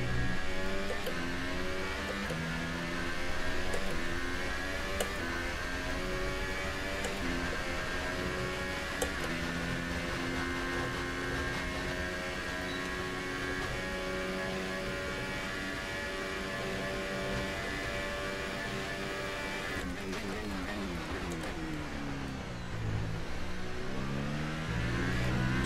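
A race car engine in the F1 2018 video game, droning and revving steadily at high pitch for a long stretch, with a sharp gear shift and drop in pitch near the end, loud and alone without talk.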